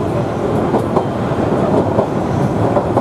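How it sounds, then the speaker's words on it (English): The Savannahlander train runs on the original Chillagoe Mungana line in Queensland, its wheels giving a steady rhythmic clickety-clack over the rails. A loud, continuous rumble of the rail carriage surrounds the beat, heard from on board with no talking. "Can you hear the clickety clack now?"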